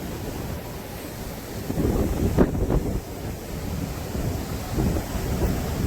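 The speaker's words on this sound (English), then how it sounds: "Really, really windy up here." Strong gusty wind buffets the microphone at a beach in Cancun, Mexico, rumbling and roaring in uneven surges with surf-like noise underneath.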